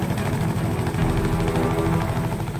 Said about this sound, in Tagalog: Kinarga nila sa chopper.